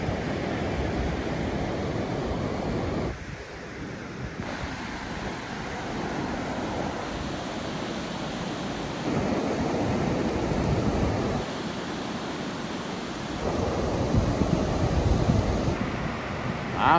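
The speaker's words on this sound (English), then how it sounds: "Wow, nice waves." Ocean surf rolls onto a beach at a tide-pool shore, a steady broad roar of breaking waves with swells rising and easing, mixed with heavy wind buffeting the microphone and no talking.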